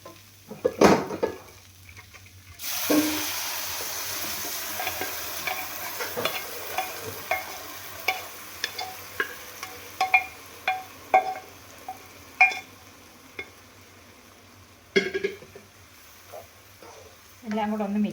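Cooked beef being stirred with garam masala in a pan for Kerala-style beef curry: repeated scraping, clinking stirs and a steady sizzle over about fifteen seconds, close and fairly loud, with a few brief sounds near the start.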